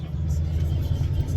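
A truck pulls into a sawmill, its engine a low, steady rumble heard from inside the cab with no one speaking.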